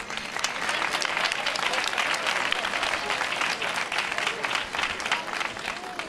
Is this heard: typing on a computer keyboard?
no